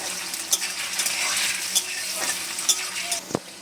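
Paneer pieces fry in hot oil in a pan, giving a steady close sizzle with scraping stirs and a few sharp utensil clinks against the pan, no voices.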